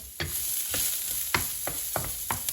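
Garlic frying in a pan as the first step for lumpia, a steady sizzling hiss broken by about six sharp scraping stirs at an uneven pace, close and alone with no talking.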